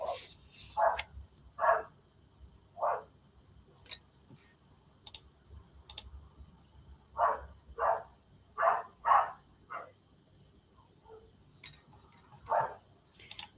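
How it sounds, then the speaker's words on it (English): Several dogs barking in short bursts, with pairs and small clusters of barks repeating across the span at moderate distance, against a quiet background and with no talking. "sorry about the dogs"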